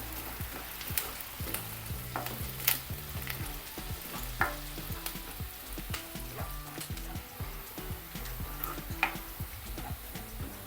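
Three or four sprigs of curry leaves sauté in a pan for a vadukapuli lemon curry, crackling in a continuous close sizzle with frequent small pops and tapping stirs throughout.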